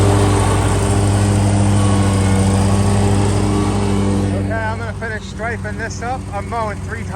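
Lawn mower engine droning steadily and close while cutting a backyard during the first mow of the year, with a voice talking over it in the latter part.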